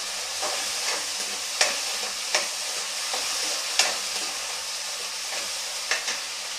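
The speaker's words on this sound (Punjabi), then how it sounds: "ਸ਼ਿਮਲਾ ਮਿਰਚ ਤੇ ਟਮਾਟਰ ਵੀ ਪਾ ਦਾਂਗੇ ਇਹਨਾਂ ਨੂੰ ਆਪਾਂ ਚੰਗੀ ਤਰ੍ਹਾਂ ਭੁੰਨ ਲੈਣਾ" Capsicum and tomato sizzle steadily in a pan for noodles, with a spoon scraping and stirring in sharp clicks every second or so, close and alone with no voices.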